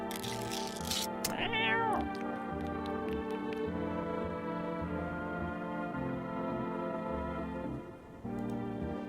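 A cat meows repeatedly in the video game No, I'm not Human, a few short close cries over a quiet music bed.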